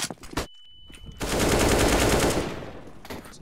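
Automatic gunfire spray in a first-person shooter, a short burst near the start, a brief lull, then a sustained loud rapid stream of shots that fades out, with no talk.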